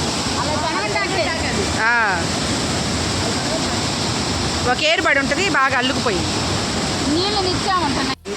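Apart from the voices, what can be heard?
water rushing through two opened dam gates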